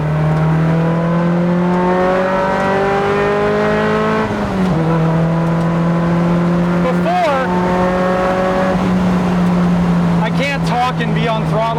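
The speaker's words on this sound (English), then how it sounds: "It does little backfires." A Toyota MR2 with a swapped-in Camry engine revs loudly up close, its pitch climbing and dropping in several pulls, with small crackling backfires near the end and a person talking over it.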